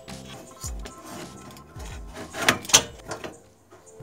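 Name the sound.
graphics card clicking into motherboard slot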